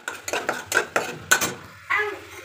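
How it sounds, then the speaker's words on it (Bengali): Chutney is stirred in a pan, with repeated scraping and clinking strokes at a steady rhythm, close and fairly loud, followed by a brief sizzle at the end. "একটু ঘেটে নিতে হবে একটুখানি"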